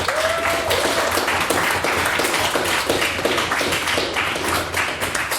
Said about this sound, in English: can I please get another round of applause for another fantastic pen speech?